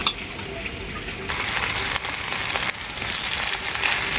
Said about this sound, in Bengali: আদাটাকে আমি খুব ভালো করে ভেজে নেব সবজির সাথে